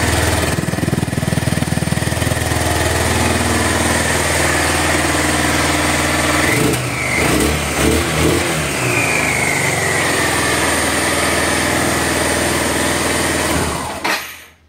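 An old motorcycle with a single exhaust idles after a cold start, a steady loud engine drone running continuously and cutting off near the end.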